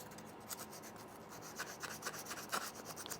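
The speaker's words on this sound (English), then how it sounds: "This is just 400 grit, going real light." Fine 400-grit sandpaper lightly smooths the feed lip of a .22LR magazine from an Advantage Arms 1911 conversion kit, giving quiet, close, rhythmic rasping strokes with short pauses between passes.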